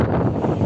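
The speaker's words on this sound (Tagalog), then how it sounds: "Ay naku, tinatangay ako ng hangin." Strong wind at Stanley beach, Hong Kong, buffets the microphone with a low, rumbling roar in a brief, steady gust.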